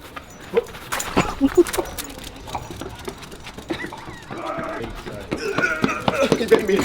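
A dog whimpers and yips in short, uneven bursts close by, with a person's voice and shuffling noises in the background.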